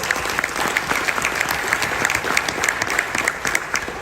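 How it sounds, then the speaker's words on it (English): A conference audience of internal auditors gives a round of applause, dense, fairly close clapping with rhythmic peaks held steadily throughout, with no talk over it. "Give yourselves a round of applause for those who took part in it"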